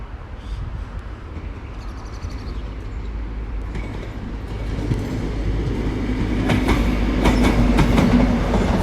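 A Class 43 HST passes the Red Cow level crossing in Exeter, led by power car 43154 with its Crompton Castle nameplate. The rumble is steady at first, then grows louder and closer. Wheels clatter over the rails as it goes by.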